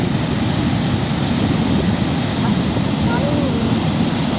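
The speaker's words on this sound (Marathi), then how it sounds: "मोठमोठ्या लाटा" Big sea waves roll in at Achara beach on the Konkan coast near Malvan, a constant loud roar of surf and wind with no distinct breaks.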